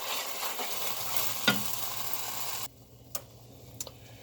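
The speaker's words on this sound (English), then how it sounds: "Simply mix through." Orange and lime zest get stirred through a frying pan, a hissing sizzle with scraping that cuts off abruptly, followed by a few light clicks in near quiet.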